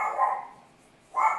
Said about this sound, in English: the dogs are getting anxious because they haven't had their walk yet